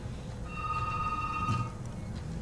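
A telephone rings on a radio call-in line, one sustained electronic ring tone under a soft hiss, moderately quiet and with no talking.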